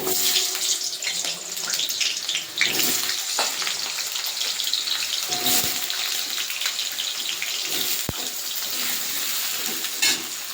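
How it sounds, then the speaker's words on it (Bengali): Potatoes crackle and hiss as they fry in hot oil in a wok, a continuous close, dense sizzle with occasional sharper pops and no talking. "তেল গরম হয়ে গেছে আলু দিয়ে দেবো"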